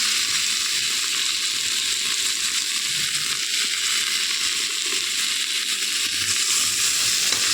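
A paste of cumin, ginger and green chili sautés in a pan for a thin bhola fish curry, giving a steady, close, loud sizzle and crackle without a break, with faint scraping now and then and no talking.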